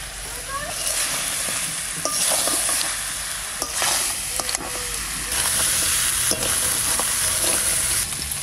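Potatoes and sea crab fry in a spice paste, a steady close sizzle with repeated scraping stirs throughout and no talk.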